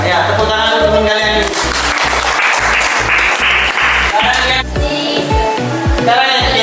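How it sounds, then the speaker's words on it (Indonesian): Classroom students applauding their classmates, a dense, steady clapping filling the room with sustained musical tones and some voices blended throughout. "tepuk tangan untuk teman kalian"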